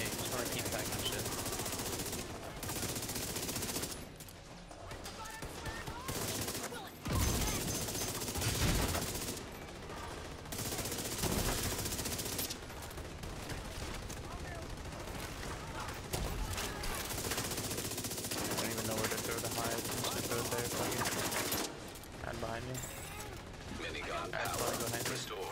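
Dense automatic gunfire and bursts of shots from the video game The Division 2 fill the clip almost without pause, loud and close, with players talking over the shooting.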